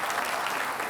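A studio audience claps for Anies Rashid Baswedan at the close of a televised Jakarta gubernatorial election debate, a brief steady wash of many hands, moderately loud.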